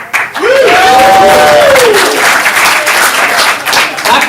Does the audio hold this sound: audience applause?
yes